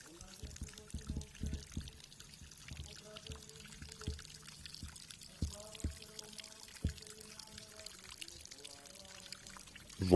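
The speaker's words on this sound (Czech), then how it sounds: "Voda, která pramení ve studánce pod kapličkou, je zaručeně zázračná." Spring water from the well beneath the Stromkovice chapel pours and splashes steadily, with a busy trickling texture and occasional louder drips throughout.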